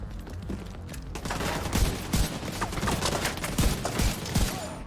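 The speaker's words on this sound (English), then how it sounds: "Shooting people across rooftops like this, that's pretty damn cool." Rapid gunfire exchanged across rooftops in the video game The Division 2, bursts of shots cracking in quick uneven clusters, some close and punchy, others more distant, continuing for several seconds.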